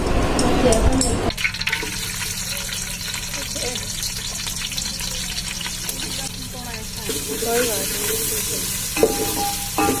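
Onions fry golden in a pan with a loud, continuous sizzle, broken by scraping and clattering as they are stirred.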